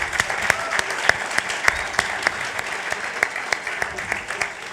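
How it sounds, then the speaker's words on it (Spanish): Audience applause at a youth forum event, steady dense clapping from a crowd filling the whole stretch with a few sharper claps standing out. "un aplauso para ella y un aplauso para todos vosotros también"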